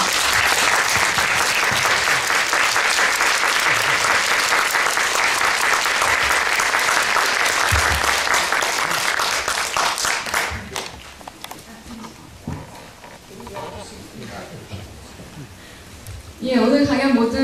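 Loud, dense audience applause fills a lecture hall at the close of a professor's talk, steady for about ten seconds before thinning into scattered claps and murmuring, then a brief renewed swell at the end.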